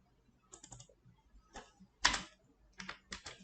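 Quiet, close typing on a computer keyboard comes in short uneven bursts of key taps with gaps between them and one louder clack midway, with no talking.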